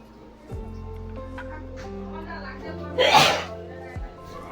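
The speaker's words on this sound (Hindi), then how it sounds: "छींकते छींकते सच में जुकाम हो गई मुझे" One sharp, close sneeze from a person with a cold bursts out over a steady background hum, with a brief click just after it.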